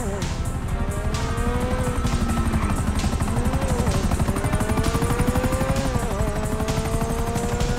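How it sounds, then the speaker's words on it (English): Helicopter in the video game GTA V, a loud steady rotor chop running throughout with whining engine tones rising and falling, mixed with game sounds. "Another chopper!"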